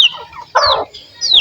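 A hen makes a few short, close clucks and squawks in quick succession, loud and alone, with brief pauses between them.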